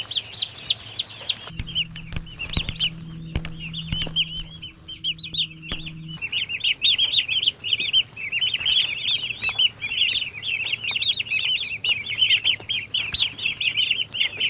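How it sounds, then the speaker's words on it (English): Busy flock of turkeys calling and clucking continuously on a farm, with a low steady hum underneath and occasional thumps nearby. "Thanksgiving turkeys right here."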